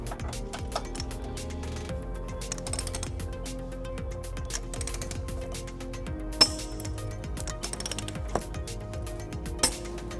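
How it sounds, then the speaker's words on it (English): Torque wrench with 15mm and 19mm sockets tightening trailer hitch bolts on a 2006 Volvo XC90, giving quiet ratcheting clicks and a few sharp metallic clinks against a low background hum. "Now we're ready to torque our bolts to manufacturer specification."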